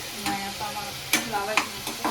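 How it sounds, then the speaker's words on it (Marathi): Onion and tomato fry in a pan for a village-style river crab dish, with soft sizzling under repeated sharp scrapes and clinks of a stirring spoon. "मस्तपैकी कांदा फ्राय होतोय"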